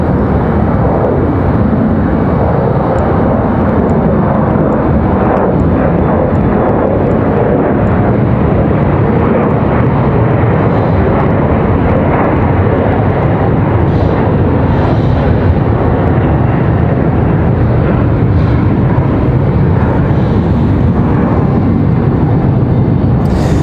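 A Republic airliner takes off at Raleigh Durham airport, its engines producing a loud, steady, broadband roar that holds throughout without talk.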